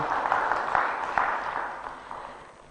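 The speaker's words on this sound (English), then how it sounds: "Another applause, please, for Lillian." An audience at a Ugandan youth entrepreneurship launch event attended by President Museveni applauds, the clapping fairly loud at first and then gradually fading away.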